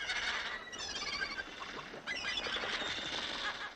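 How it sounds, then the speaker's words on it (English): Thousands of wild seabirds nesting on narrow cliff ledges on Seal Island: a loud, dense chorus of overlapping squawks and honking calls, continuous throughout. "Wild birds by the thousands."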